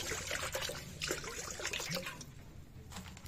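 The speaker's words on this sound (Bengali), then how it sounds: "এখন দিব পানি।" Water poured into a pan on the stove for soybean curry, a faint trickling splash that runs for a couple of seconds with light clatter, then tails off.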